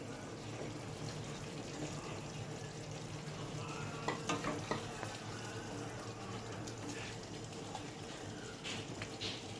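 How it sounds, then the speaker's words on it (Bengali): Fried rohu fish pieces go into a simmering potato curry for a Bengali fish jhol and are stirred in; a soft, continuous sizzle carries a brief cluster of utensil clinks midway, quiet and close with no speech. "ভেজে রাখা মাছগুলো দিয়ে দিচ্ছি"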